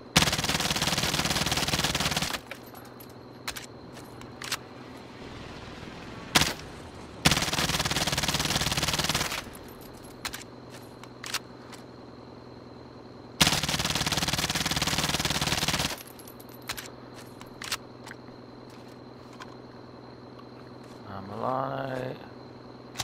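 A MAC submachine gun fires in long automatic bursts, with several loud sustained strings of rapid shots and quieter pauses between them, plus a brief voice near the end.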